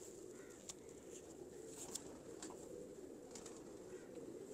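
A Sandurii Palak breed pigeon coos softly amid faint background hiss, with a few brief sharp clicks or wing sounds scattered through.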